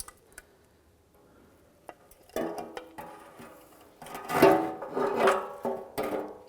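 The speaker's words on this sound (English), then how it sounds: "Use our pry tool and remove the rest of this differential cover here" Pry tool working off the differential cover of a 1993-1997 Ford Ranger, quiet scrapes and small clicks building into louder rasping metal-on-metal grinding and creaks near the end, close up.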